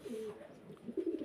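Racer pigeons coo softly at a pigeon farm in Magura, Mohammadpur, with a few rolling, throaty calls close by in a quiet setting.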